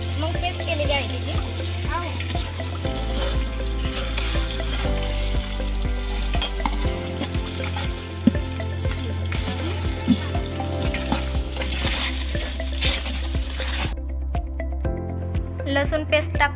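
Onion paste made from pre-roasted onion frying in about half a ladle of oil for a village-style spicy black-masala mutton curry, a steady loud sizzle with stirring under continuous background music and some talking.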